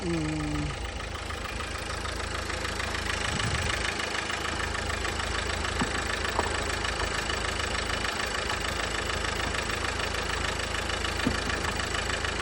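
A Nissan Sunny car engine, driven 340,000 km, idles steadily with an even, low mechanical hum and light rattle, running continuously without revving.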